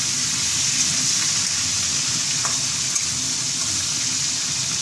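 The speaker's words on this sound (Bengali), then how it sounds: "আমি এই মাথাগুলো লাল লাল করে ভেজে নেব।" Hilsa fish heads sizzle in hot oil in a pan, a steady, close crackling hiss with occasional small pops throughout.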